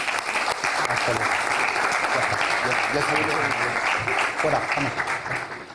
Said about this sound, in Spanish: todos se merecen un, fuerte aplauso